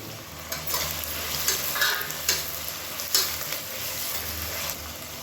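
Green chillies, mint and coriander sauté in hot oil for biryani, a soft, steady sizzle broken by several sharp scrapes and taps of a spoon stirring in the pan, close and without talk.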